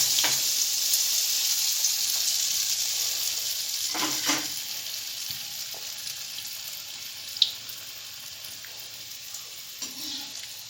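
Muga pitha batter frying in hot oil, a steady close sizzle running throughout with faint clinks and a few soft stirring touches, no talk.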